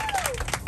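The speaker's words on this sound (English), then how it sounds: "You guys, give him another round of applause." Brief audience applause during a bus ride experience in Times Square, a short, dense patter of clapping with a voice whooping over it, close and fairly loud.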